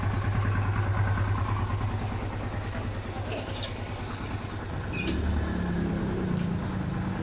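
A Kawasaki Barako 175 motorcycle engine idles steadily close by, a loud, continuous low chugging throb with faint clatter, running alone without voices.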